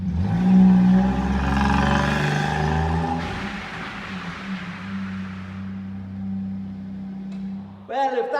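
A small Daihatsu kei car drives with a rough mid-pitched engine note, then slows and stops as the handbrake is tested, followed by a brief clatter at the end; a voice is heard near the start.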